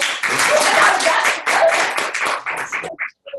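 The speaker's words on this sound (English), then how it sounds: "Give me a round of applause." A convention audience claps in sustained, dense applause that tapers off and breaks into a few scattered final claps.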